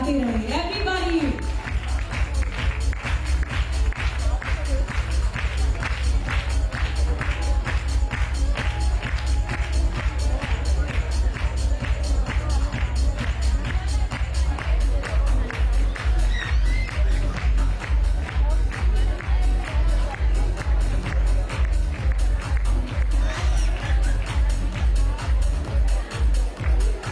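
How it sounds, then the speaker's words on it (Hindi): Audience at a women's celebration event claps steadily and loudly throughout, a dense, continuous wave of applause with crowd noise beneath. "तालियां बजाते रहिए"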